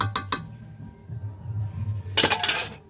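A metal lid is set down on a cooking pot of mutton fat and meat, giving a few quick clinks at first, then a louder bright rattling clatter near the end, close by over a low simmering hum.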